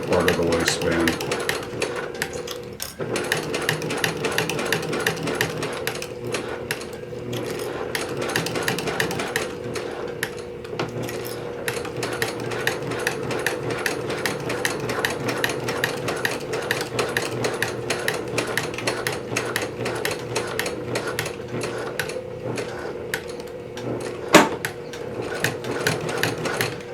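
A sewing machine runs on a pants waistband in a long, steady, close hum with a rapid mechanical patter, continuous through nearly the whole stretch with small clicks and a sharp knock near the end.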